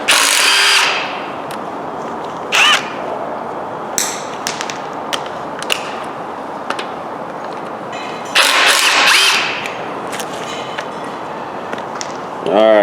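A power tool with a 3/8 Allen socket backs bolts out of a Dodge 4.7 engine during teardown, running in short loud bursts of whirring separated by pauses, ending with a sharper burst.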